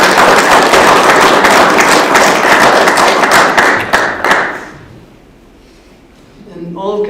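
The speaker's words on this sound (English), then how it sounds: "I'd like everybody to clap for Lisa." People at a town council meeting clap for a staff member, a loud burst of close handclaps lasting several seconds that fades out into quiet, followed by a voice starting to speak.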